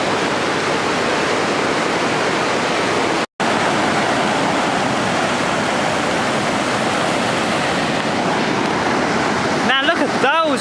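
River water at Lynmouth rushes down the valley, heard from a bridge as a loud, unbroken roar of rapids with a brief cut partway through.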